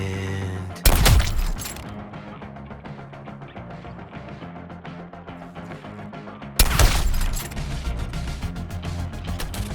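Gunfire in the Suicide Squad: Kill the Justice League action game: two sharp, loud bursts of shots with shattering impacts, separated by a stretch of busy game music and effects.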